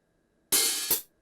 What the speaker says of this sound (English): this is an open hi-hat sound from the EMU percussion drum module